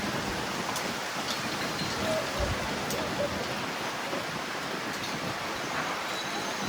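Steady rain falls in strong wind outdoors during a heavy monsoon shower, making a constant dense hiss throughout with no voices.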